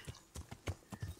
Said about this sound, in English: I do like to travel properly by horse.